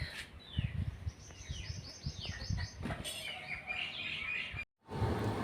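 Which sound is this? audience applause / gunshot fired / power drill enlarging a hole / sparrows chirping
sparrows chirping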